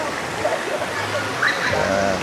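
Water rushes and splashes steadily at the source of Paglitaw Natural Pool in Tanay, a close, continuous flowing wash with faint voices mixed into it.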